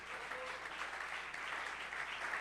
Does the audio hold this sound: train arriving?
no